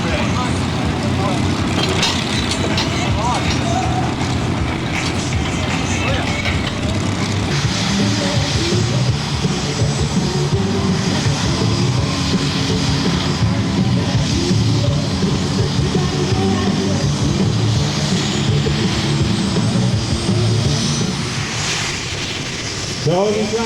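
A pulling tractor's engine roars loud and sustained at a tractor pulling contest in Herning, a thick, rumbling drone with shifting tones, while an announcer's voice carries over it.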